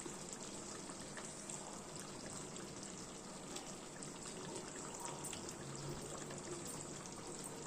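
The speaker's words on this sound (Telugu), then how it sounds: "ఆ పేస్ట్ వేసాక కొంచెం చింతపండు రసం పోయాలి" Tamarind juice is poured into a pan of brinjal curry, giving a soft, continuous liquid pour and trickle that stays faint and steady throughout with no talking.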